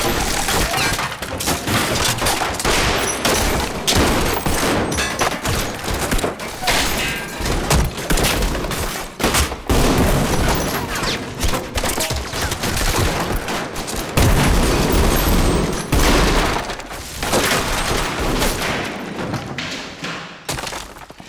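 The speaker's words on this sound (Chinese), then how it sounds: "鬼子很快就赶来，开始对着走廊一顿乱开枪。" Japanese soldiers spray gunfire down a barricaded corridor in the Korean period drama Gyeongseong Creature: dense, relentless shots and heavy thuds crowd together for over twenty seconds, loud and close, with a few voices mixed in.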